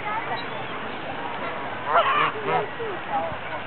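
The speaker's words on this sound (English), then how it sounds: "Canada geese." Canada geese honk among a mixed flock of ducks and geese on the grass in a park in autumn, their harsh, nasal calls bursting out in a few loud clusters over a steady background of quieter bird chatter.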